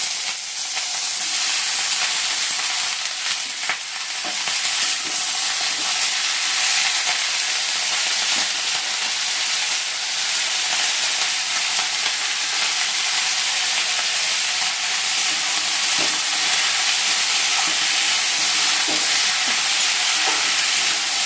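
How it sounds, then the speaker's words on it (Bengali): Potatoes and spring onions frying in hot oil in a wok, a loud continuous close-up sizzle and hiss lasting throughout, with occasional faint stirring clicks and no voices. "কড়াইতে তেল দিয়ে দিয়েছি, তেলও গরম হয়ে গেছে। এই যে পেঁয়াজকলি আলু ভাজা বসাচ্ছে।"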